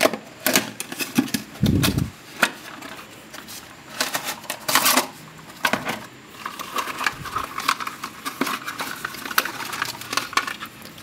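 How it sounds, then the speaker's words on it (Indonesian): Packaging for a USB-rechargeable LED front bicycle light is handled close up: rustling, clicks, taps and small plastic knocks in irregular bursts, with no talk over them. "Oke, pertama kita unboxing dulu."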